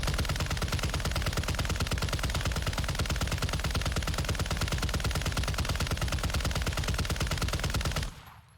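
Sustained automatic fire from the Raal MG machine gun in a first-person shooter video game, a dense unbroken stream of rapid loud shots lasting about eight seconds before cutting off abruptly.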